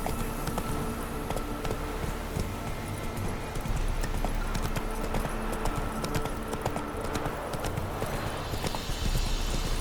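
Horse hooves gallop steadily in The Witcher 3, a fast continuous clip-clop thudding over a dense, loud game soundscape.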